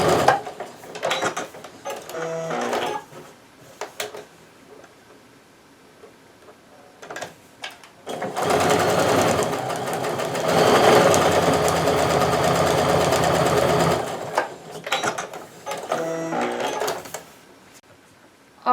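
A sewing machine stitches a scant quarter-inch quilt seam. A long, steady mechanical run of about six seconds sits in the middle, with short stop-start bursts of stitching before and after it, close to the microphone.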